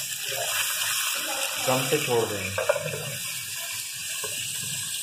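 Water splashes into a pan of stuffed green chillies frying in masala, giving a steady watery hiss and sizzle heard under someone speaking Hindi.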